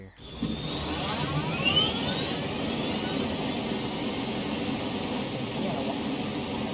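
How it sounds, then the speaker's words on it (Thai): A jet aircraft engine in the video game Unturned roars steadily and loudly, a sustained whine with a rising high tone over constant rumbling noise. "มันเป็นเสียงเครื่องบินเจ็ตของตัวเองมัน"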